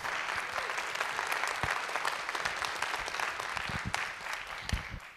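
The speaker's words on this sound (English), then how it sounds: "round of applause for our first talk" An audience at a data science and geospatial engineering talk breaks into steady, dense applause that fills the room for several seconds, with no voices over it.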